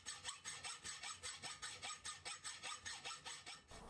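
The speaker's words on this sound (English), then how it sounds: "move on to the bench and use a hacksaw to rough cut them to shape" A hacksaw rough-cuts metal brake hanger parts at a workbench, making a steady rhythmic rasp with about four even strokes per second, close and continuous.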